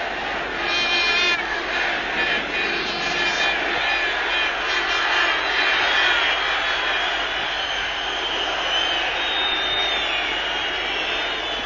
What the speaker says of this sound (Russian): Ну, здесь, вы знаете, такая довольно активная реакция трибун.